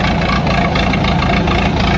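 John Deere 5042 and Mahindra 475 tractor engines straining in a tug-of-war, a loud, dense, continuous diesel roar at steady pitch, close and unbroken, with no audible talk.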